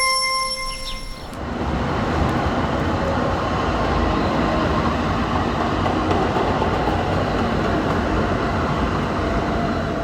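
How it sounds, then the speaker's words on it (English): A tram in Switzerland rolls past close by with a loud, steady rumble and rattle that fills the whole stretch after a brief ringing tone at the start. "Excuse the sound of a tram going by right now."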